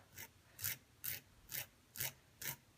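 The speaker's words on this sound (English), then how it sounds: "I'm going to usually use the nail file" A nail file rasps against the edge of a nail wrap held at a right angle, six short, evenly spaced strokes about half a second apart, close and crisp with nothing else around them.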